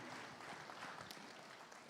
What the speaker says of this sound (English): Let's give him a round of applause on that again.